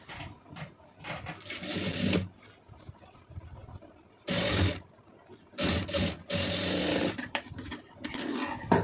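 Sewing machine stitching a net sleeve, running in several short bursts of whirring needle action separated by brief pauses, close and fairly quiet.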